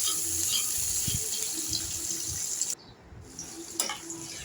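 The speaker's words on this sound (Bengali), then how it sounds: "এখানে আমি একটু পানি দিয়েছি" Water splashes steadily into a kitchen pan holding bottle gourd peel, small potatoes and garlic, a continuous close pouring hiss that cuts off abruptly partway through, leaving a quieter pause and a brief final trickle.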